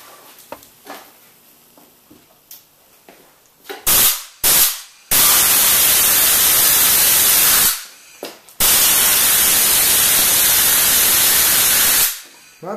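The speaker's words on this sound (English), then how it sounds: "I'm going to use my trusty shop air hose" Shop air hose blasting across the flame of an alcohol backpacking stove, loud broadband roaring bursts: two short blasts, then two long sustained rushes of several seconds each, separated by quieter gaps.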